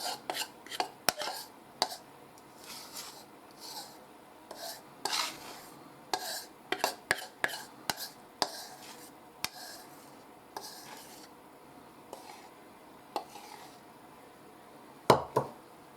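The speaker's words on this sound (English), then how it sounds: "Scrape, scraping, scraping, scraping." Cream filling for a Boston cream pie scraped out with a utensil, a run of quick scraping and tapping strokes against a bowl, close and fairly quiet, ending in one louder knock.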